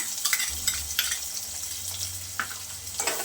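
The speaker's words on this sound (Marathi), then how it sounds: "परतून घ्यायचा आहे व्यवस्थित आपल्याला तेलामध्ये गुलाबी रंगावरती परतायचा आहे कांदा" Finely chopped onion fried in hot oil with cumin and mustard seeds for a mixed dal amti with drumsticks, a steady close sizzle broken by a few soft stirring scrapes, with no voices.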